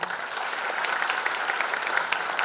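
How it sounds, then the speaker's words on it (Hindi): Sustained audience applause fills a live stage show for a band and its musicians, a dense, steady wash of many hands clapping at even loudness with no voices over it. "उनके लिए एक बार और जोरदार तालियां"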